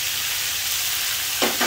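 Cauliflower and potato pieces go into hot oil after browned onions for an Indian-style sabzi, giving a loud, even, close sizzle that swells briefly near the end as the pan is stirred; nobody speaks.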